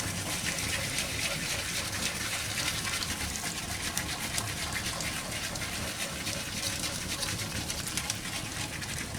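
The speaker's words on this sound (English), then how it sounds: "we're going to add our ale, a little bit at a time, and whisk that as well." Ale is poured gradually into a Welsh rabbit cheese sauce and whisked in, producing a steady, close, hissing wash of liquid and whisk noise that continues without break, with a voice faintly present underneath.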